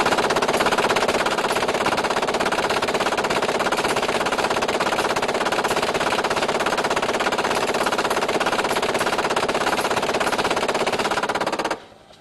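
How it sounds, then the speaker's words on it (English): An M240 machine gun fires a continuous burst of about 130 rounds at a simulated exposed target on a firing range, a loud, steady, rapid hammering that lasts around twelve seconds and then cuts off abruptly. "In this demonstration, an M240 is used to strike a simulated exposed target. The gunner will fire 10 seconds or 130 rounds."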